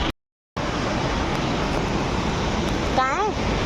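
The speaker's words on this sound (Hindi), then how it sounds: "तुम पानी का बहाव देखो कितनी तेज़ है और इसकी आवाज़ देखो कितनी तेज़ है" Fast-flowing river water rushes loudly and steadily at Gaurikund on the Kedarnath route, a continuous broadband roar after a brief dropout at the start, with a voice speaking over it near the end.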